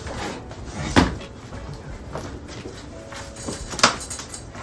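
A door is pushed open wider in a podcast room, giving a couple of sharp knocks and creaks over steady background noise, with no talk during the clip.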